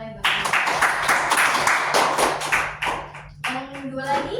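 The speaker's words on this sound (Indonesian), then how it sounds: "Beri tepuk tangan oleh Mbak Wanda." Applause from a classroom of students during a microteaching practice session, a burst of clapping lasting a few seconds that thins out toward the end, with a voice speaking briefly underneath.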